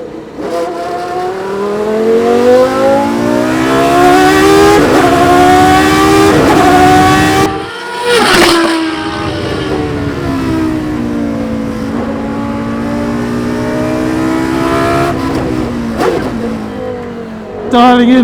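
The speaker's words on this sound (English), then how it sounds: "The upshifting with that gear cut is fabulous." A howling V10 Le Mans prototype race car engine revs hard and climbs through its gears, with an abrupt gear-cut upshift briefly breaking the loud, close, continuous scream before it rises again.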